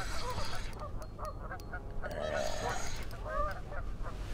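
Several geese honk off in the distance amid outdoor morning ambience while bass fishing in Michigan, with scattered calls overlapping now and then.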